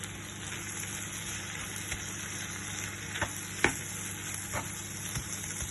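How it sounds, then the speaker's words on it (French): Onions with honey simmer and caramelize in a pot, a soft steady sizzle with a few faint spoon scrapes and taps while being stirred, quiet and close with no talk. "je mélange tout ça et je laisse cuire, mijoter un petit peu, caraméliser"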